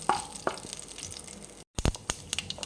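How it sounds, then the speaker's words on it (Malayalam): Mustard seeds spluttering in hot oil give off sparse, sharp pops and crackles at irregular intervals, close by, with a brief silent gap partway through. "കടുക് ഒന്ന് പൊട്ടി വരട്ടെ കേട്ടോ."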